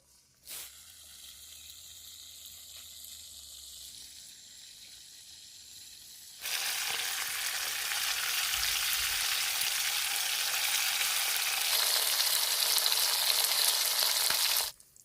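Shark and catfish pieces frying loudly in hot oil, a steady dense sizzle that starts quieter and swells to a strong, continuous crackle for most of the stretch, with no voices.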